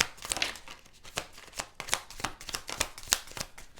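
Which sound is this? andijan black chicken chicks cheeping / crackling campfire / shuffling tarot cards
shuffling tarot cards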